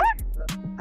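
On a busy traffic-filled street, a dog gives a short yip followed by a few brief whimpering barks, close by and over faint engine hum.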